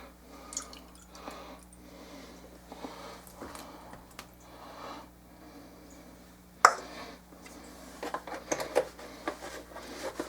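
Liquid starch is poured into a measuring cup, giving soft irregular drips and gurgles close by, with a louder splash midway and sputtering, uneven trickles toward the end.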